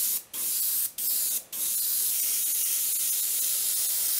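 Aerosol spray paint hissing onto a sculpted figure's head for a second coat: three short bursts in quick succession, then one long continuous spray, close and steady.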